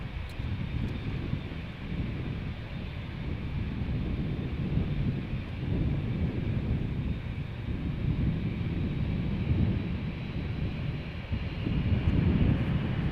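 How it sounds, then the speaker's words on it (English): A KLM Boeing 787-10 Dreamliner departing Amsterdam Schiphol, heard as a steady, low, distant engine rumble mixed with wind noise, fairly faint and continuous without talk. "787-10 Dreamliner"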